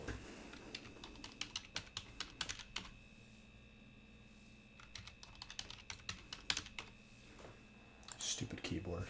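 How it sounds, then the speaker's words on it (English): Bursts of sharp clicks from keys being typed on a computer keyboard, tapped in quick irregular runs up close, pausing briefly before resuming, over a steady electronic hum and a faint low murmur. "Stupid keyboard."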